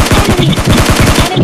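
Rapid automatic gunfire in PUBG Mobile Lite, a loud close burst of evenly spaced shots lasting over a second.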